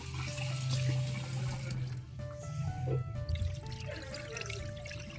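Running water splashes steadily into a basin of rice for washing, like a tap filling a pot, with a low rumbling hum underneath throughout.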